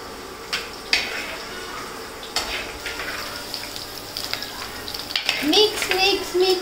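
Curry leaves dropped into masala frying in a pan for a spicy fish curry, with a sizzling hiss and scraping stirs that swell into a louder crackle near the end, heard up close.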